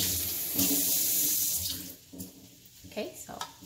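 Tap water pours into a container for pickled mustard greens, a loud, steady rush that cuts off after about two seconds, followed by quieter handling sounds and a voice.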